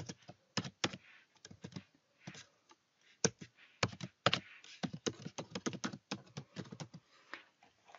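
Hotmail login details being typed on a computer keyboard: close, quiet clusters of rapid key taps in irregular bursts with short pauses between them.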